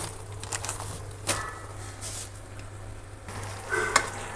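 Fenugreek panjiri sweets roasting slowly in ghee in a pan: a soft, steady sizzle with occasional stirring scrapes and light clinks of a utensil, fairly quiet throughout.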